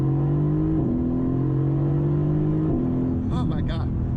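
A Mercedes AMG GTS engine drones loudly and steadily while accelerating, its pitch stepping down twice at gear changes, with a voice speaking briefly near the end.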